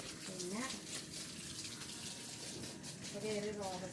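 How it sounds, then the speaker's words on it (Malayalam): Water poured onto a curry leaf plant, a steady, soft gushing splash running throughout under a voice. "ഞങ്ങളുടെ കറിവേപ്പിലേക്കാണ് പൊന്നു വെള്ളം ഒഴിച്ചുകൊണ്ടിരിക്കുന്നത്"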